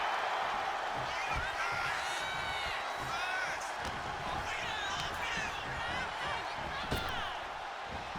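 Wrestling arena crowd in the video game WWE 2K25 roars and cheers steadily throughout, a dense continuous swell with scattered impacts, under a commentator's running play-by-play.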